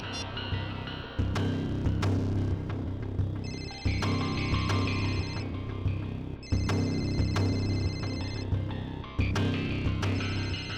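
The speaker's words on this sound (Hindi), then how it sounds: "और ये जो बेल बज रही है, इसी नंबर से फोन आया था।" A phone rings in repeated electronic bursts with short gaps between them, fairly loud over a steady background, in a scene from the TV crime series CID.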